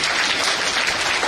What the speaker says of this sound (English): a big round of applause for Anshu ma'am